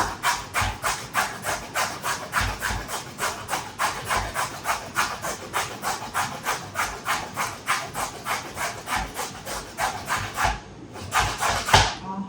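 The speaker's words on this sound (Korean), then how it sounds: "꼭 손이 많이 가시더라도 이렇게 채를 다 해서 썰어서 사용을 해주세요" Carrots are cut into fine shreds by hand for carrot cake, making a close, fast, even run of scraping strokes, about three per second, that pauses briefly near the end and then resumes.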